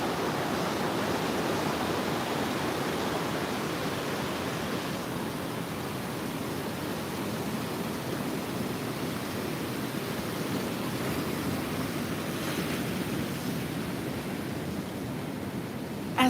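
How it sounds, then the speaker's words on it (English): Ocean surf washing onto a beach at sunrise, a continuous broad hiss of breaking waves that stays even and unbroken, with no voices. "these waves are going to dry up"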